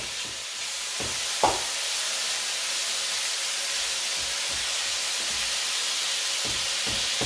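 Lamb meat frying in a pan kebab-style at home, a steady loud sizzle and hiss with a few brief stirring clacks and scrapes, no talking.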